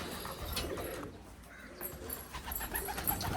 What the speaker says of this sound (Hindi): कबूतरों ने हमारे डेरे पर अपना घर बनाया हुआ